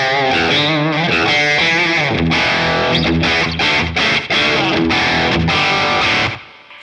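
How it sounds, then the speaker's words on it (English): A loud electric guitar through a Boss Katana amplifier's treble boost plays a run of chords and notes with a bright, gritty boost effect, ringing out before cutting off at the end. "one of the first boosts you can get into is the treble boost"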